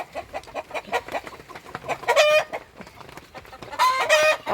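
Backyard country hens on a poultry farm cluck in a quick run of short, close clucks, followed by two louder drawn-out calls, with no talk over them.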